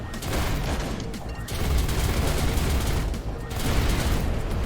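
Autoguns firing continuously in space combat in the video game Everspace 2, a dense, loud, unbroken rattle of rapid gunfire with booming swells, with no voices over it.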